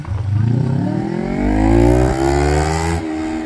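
Motorcycles in a full-speed bike race roar past up close, engines revving and rising in pitch, a loud sustained passing rush that keeps building before easing slightly at the end.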